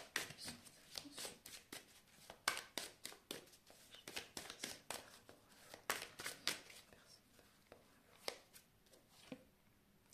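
Tarot cards shuffled and drawn by hand at close range, a rapid run of crisp riffles and slaps with brief pauses, quiet and intimate with no talking.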